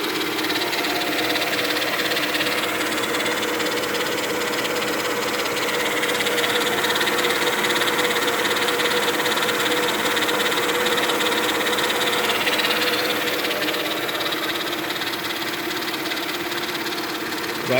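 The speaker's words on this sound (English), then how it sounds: "this is the noise that a bad power steering pump will make when it's about to go bad" A failing power steering pump on a 2000 Mercedes-Benz E320 wagon engine, heard as a continuous whirring, grinding drone over the steady idle, loud and close without any break.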